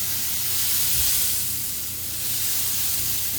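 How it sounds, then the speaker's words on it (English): A steady, breathy hiss of a spray bottle spritzing pork butts on a Green Mountain Grills Daniel Boone pellet grill, continuous and close, with a low rumbling background. "go ahead and give them a spritz with our spray"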